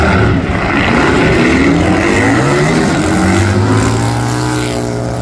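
A fast Harley-Davidson racing motorcycle in Brazil roars past close and loud, its engine note climbing and then shifting in pitch as it goes by, with no voices.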